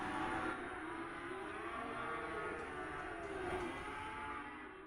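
A herd of cattle at a cattle auction moos together in overlapping, sustained low calls, forming a dense, continuous drone that is loud and steady throughout, with no talking.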